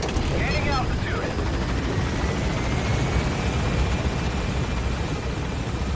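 Helicopter climbing in Metal Gear Solid V, a steady loud rotor and engine roar filling the whole stretch, with faint brief game sounds near the start.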